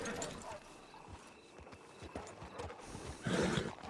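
Horse hoofbeats from a video game, a soft irregular clip-clop running through the clip and growing louder near the end, mixed with other game sounds.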